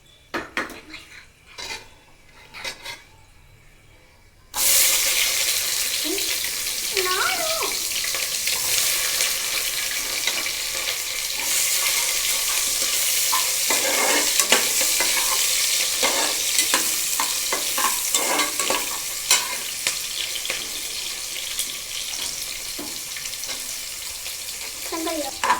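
Onions sizzle steadily in a pan while being stirred, with scrapes and clinks of a utensil against the metal after a quiet start; no talk, a close and continuous cooking sound.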